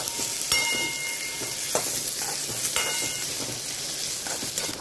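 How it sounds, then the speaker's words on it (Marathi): Onion sizzling and frying in a pan while being sautéed until soft for a green peas curry, a steady soft crackle with occasional stirring clicks, no voices. "कांदा नीट मऊ होईपर्यंत परतवायचे आहे।"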